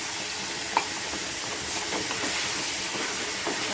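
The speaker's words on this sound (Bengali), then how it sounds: "এবার আমি এখানে আমল দুধগুলো রেখেছিলাম সেটা দিয়ে দিলাম" Milk poured into semolina halwa cooking in ghee in a pan: a steady, broad hiss and sizzle that runs the whole time, with one brief clink near the start and faint stirring scrapes, and no voices.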